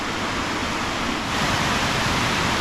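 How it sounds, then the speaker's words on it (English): Steady broadband roar of a small waterfall at Glenn Springs, South Carolina, heard up close as a continuous rushing wash of falling water, loud and unbroken, with no voices. "check out this waterfall a little bit closer"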